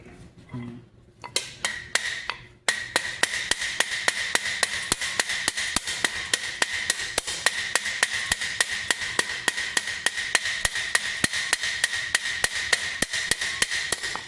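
A metal rivet is hammered on a topfhelm, a great helm, with a few tentative taps and then a long, steady run of sharp, ringing metallic blows, close and even in rhythm.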